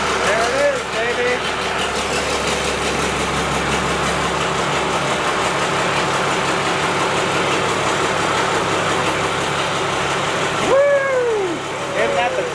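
A 650hp Cummins diesel swapped into an abandoned 1957 big rig runs at a loud, steady, rumbling idle close by, with excited voices talking over it and a brief revving swell near the end.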